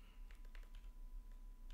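Soft, quick keystrokes tap on a computer keyboard while code is entered, faint and close over a steady low hum.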